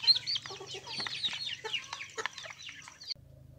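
Free-range organic laying hens cluck and chatter continuously at close range, with overlapping calls from several birds before the sound cuts to a quieter low hum.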